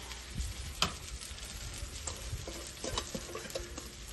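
A steady crackling sizzle of buttermilk cornbread batter frying in a hot pan, close and moderately loud, with occasional small pops and clicks.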